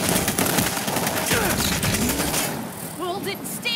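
An automatic turret fires in the video game World War Z Aftermath, a dense rapid burst of gunfire with booms over game effects, while a voice talks in the background.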